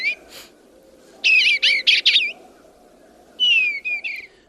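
A bluebird sings in spring, short bursts of clear warbling notes in two phrases separated by a pause, close and bright over a low steady background hum.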